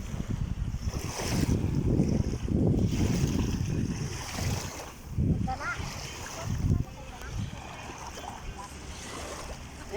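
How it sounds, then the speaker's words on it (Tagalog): Strong high-tide sea waves surge and wash continuously along the shore at Al Khobar, Saudi Arabia, with heavy wind rumble on the microphone and louder swells breaking every few seconds. "Lumakas yung alon."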